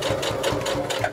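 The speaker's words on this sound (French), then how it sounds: "je fais mon point avant-arrière pour sécuriser le début de ma couture et je commence à coudre" A domestic sewing machine stitches a fabric beach pouch seam, its needle beating in a fast, even rhythm at close range with no talk over it.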